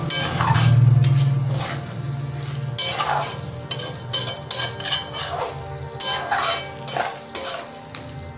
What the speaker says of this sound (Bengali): খুব ভালো করে পটলের সাথে মশলাটা কষিয়ে নেব।